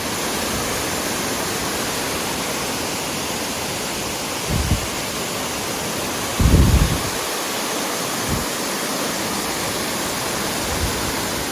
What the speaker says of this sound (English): It's pouring out right now.